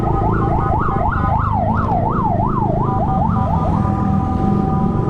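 A loud ambulance siren wails in traffic, sweeping up and down in fast repeated cycles that dominate the scene over a low engine rumble, close by and without talk.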